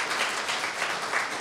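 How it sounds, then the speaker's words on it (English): Audience applause at a labour council meeting on anti-racism, a dense steady clapping from a crowd lasting the whole moment without voices over it. "that deserves an applause, of course"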